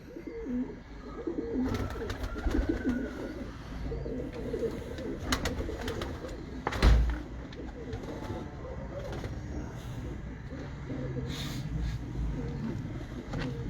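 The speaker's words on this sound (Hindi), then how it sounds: "क्या बात है, ये मज़े वाली फीमेल आई माशाल्लाह। बड़ा कबूतर अबाबिल।" Pigeons of a breeder's loft coo repeatedly at close range, soft throaty calls recurring over a low background with occasional wing flutters and scattered bird chirps.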